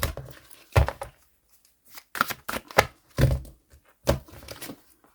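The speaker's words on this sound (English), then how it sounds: "3 more shuffles and it's finished." Tarot cards being shuffled close up, in three or four separate bursts of riffling and tapping with short silent gaps between them.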